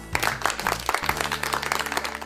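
Clapping from a group of students fills the clip, a steady burst of many hands close by with no talk over it.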